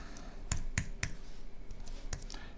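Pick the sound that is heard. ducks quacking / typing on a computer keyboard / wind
typing on a computer keyboard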